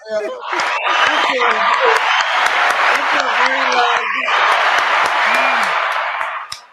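A studio audience at a discussion on love and relationships breaks into loud, sustained applause with some cheering and whoops, while voices carry over the crowd noise.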